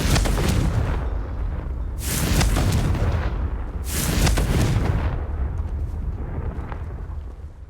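Confringo blasting spells from Hogwarts Legacy burst in three loud booming explosions, one near the start and two more at about two-second intervals, each with a crackling rumbling tail that never fully dies away.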